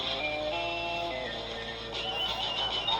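A short electronic signature jingle, the CBS Radio sports signature, steps through several sustained tones, shifting pitch partway through and ending on brighter accents.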